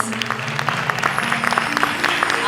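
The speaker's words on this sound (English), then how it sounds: "a round of applause to all the wonderful singers" Audience applause for a group of singers at a music performance, steady dense clapping throughout with a faint tonal hum underneath, no speech.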